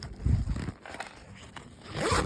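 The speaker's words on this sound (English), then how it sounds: "So you can use both zippers." Someone opens the zipper on the main compartment of a mountain bike backpack, making close, loud ripping zip strokes. Rustling of the fabric comes in between.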